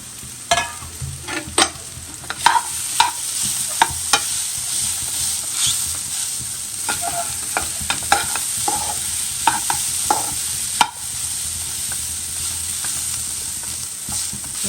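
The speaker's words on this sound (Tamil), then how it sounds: "கடலைப்பருப்பும் உளுந்தம்பருப்பும் வேக வச்சதை நம்ம இதில் போட்டு வறுத்துக்கலாம்" Cooked chana dal and urad dal stir-fried in a pan for kozhukattai filling, a steady sizzle broken by repeated scraping and clacking of a spatula against the pan, close and continuous with no talk.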